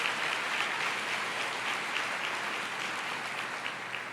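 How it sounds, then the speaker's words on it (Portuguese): A church congregation claps during a sermon, a soft, steady patter of many hands heard from some distance, continuous and even throughout with no voices over it. "pode aplaudir"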